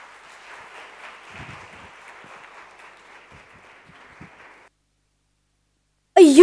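An audience applauds after a student's TED-Ed talk on guilt. Steady, dense clapping runs for about four and a half seconds and fades into a short silence before a sudden loud sound cuts in at the end.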